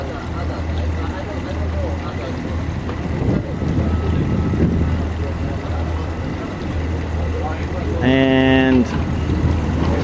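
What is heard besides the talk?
boat outboard motors during joystick docking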